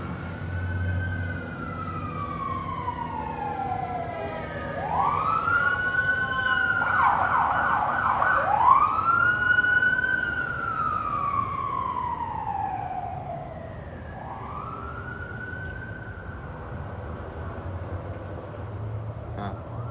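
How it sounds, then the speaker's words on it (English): Emergency vehicle sirens sweeping up and down in wailing arcs, growing louder as they pass close by and then fading, over a steady street rumble. "Sirens, huh?"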